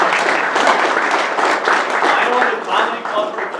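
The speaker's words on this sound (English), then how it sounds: "I want to give him a big round of applause." A crowd gives a full round of applause, continuous, close and loud, with clapping swelling and easing slightly throughout without pause.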